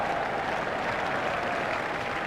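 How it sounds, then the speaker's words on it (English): Crowd applause in the cricket video game EA Sports Cricket 2002 during a World Cup match, a steady wash of clapping from a large stadium crowd, sustained and even for the whole stretch with no talk over it. "Crowd are standing and applauding."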